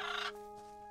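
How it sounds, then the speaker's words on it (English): Bird call in the video game Little Witch in the Woods: a short, loud squawking burst fading into a quiet sustained tonal hum, heard alone with no talking. "Let's move away from the damn bird."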